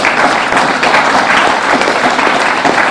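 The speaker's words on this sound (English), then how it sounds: "Give him a tremendous round of applause" Loud, dense applause from an audience for Deputy Prime Minister Dr. Earl Asim Martin at an event in Manchester, continuous close clapping sustained evenly throughout.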